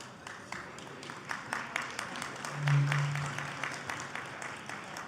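Audience applause at an awards banquet, a moderate spread of clapping from a seated crowd that swells and fades over several seconds, with a faint voice near the middle.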